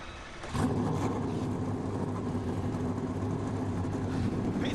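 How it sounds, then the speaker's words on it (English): NASCAR stock car engines starting up at Daytona, a sudden loud roar that comes in and then holds as a dense, steady rumble of many engines idling. "Drivers, start your engines."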